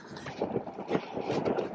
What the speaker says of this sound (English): Man, it's very windy.